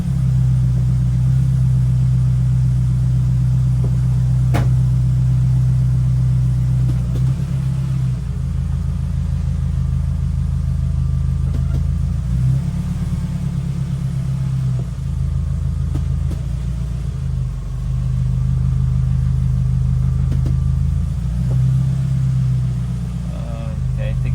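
A Scion tC's engine runs with a steady, close rumble after the car is put into drive following a transmission shift solenoid replacement. The idle fluctuates slightly, and a voice speaks over it at times.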